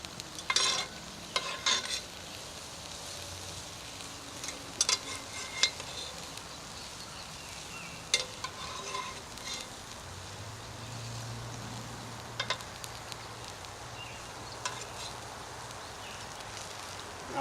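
Steak frying in hot oil in a pan over a campfire at a rustic log cabin deer hunting camp, a steady close sizzle with intermittent scraping and stirring clatters of a spoon throughout.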